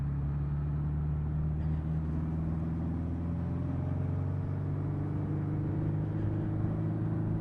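A Suzuki GS 1000 motorcycle engine drones steadily on a test ride with a handlebar conversion, a continuous low rumble with steady harmonic tones and no obvious revving, held at moderate level throughout.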